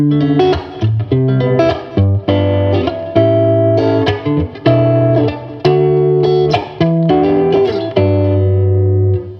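Electric guitar played through a clean '65 Deluxe Reverb tube amp with spring reverb, strummed chords and single notes ringing out with a warm, shimmering tail.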